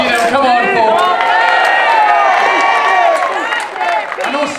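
Spectators at a full-contact medieval combat bout in Perth city centre cheer and whoop loudly and continuously, a dense crowd roar with scattered claps and voices.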